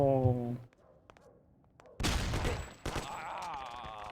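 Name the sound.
gunshots in the video game Mafia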